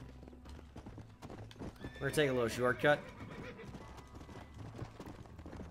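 Hooves clop steadily in the Western video game Red Dead Redemption while a horse lets out a loud, wavering whinny midway, and someone speaks over the riding sounds.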